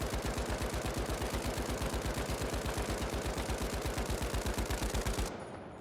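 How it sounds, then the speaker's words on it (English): A Lewis gun firing in The Finals video game: one sustained, rapid automatic burst of loud, evenly spaced shots that stops abruptly near the end, with no talking. "10 meters, this is the Lewis gun"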